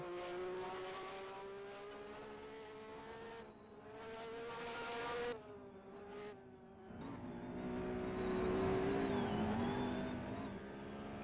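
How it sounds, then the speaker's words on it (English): A twin-turbo V6 race car heading into a hairpin, its engine note rising and falling through shifts and braking as it slows for the bend and then pulls away again, with tire noise and no talk. "Look here, Twin Turbo V6 makes its way into the hairpin."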